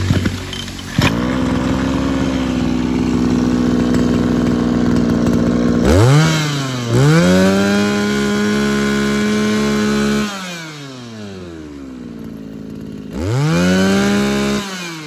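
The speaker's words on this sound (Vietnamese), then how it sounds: "Máy nổ rất là bốc nha. Mitsubishi đặc trưng là nổ rất là bốc." A Japanese Mitsubishi brush cutter engine runs loud and close, idling steadily before being revved hard in several surging bursts that rise and fall, with no talking.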